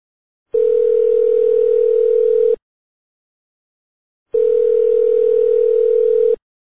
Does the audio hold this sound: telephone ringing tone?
yes